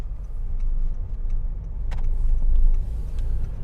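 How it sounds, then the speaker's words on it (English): Cars idle and creep through a roundabout traffic jam, a close, steady low engine rumble with a few faint clicks and light mechanical taps, no talk. "Bit of a traffic jam at the roundabout there."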